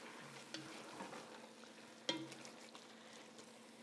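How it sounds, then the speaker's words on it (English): A utensil scrapes the fond from a pan of caramelized onions with the heat off, a few distinct close scrapes and light stirring over a soft sizzle. "Just scrape away, dissolve that natural caramelized sugar."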